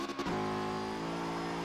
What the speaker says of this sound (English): I forgot how nice to drive this car was